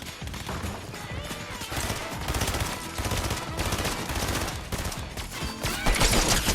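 Dense, continuous video game gunfire from dual pistols crackles as rapid overlapping shots and impacts, loud and steady for the whole stretch with no speech.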